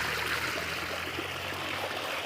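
Water flows steadily from a brinjal field's fertilizer tank after the fertilizer is stirred in, a continuous rushing stream sound with no voices.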